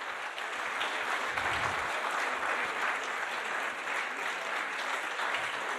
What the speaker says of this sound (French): les applaudissements, j'entends pas beaucoup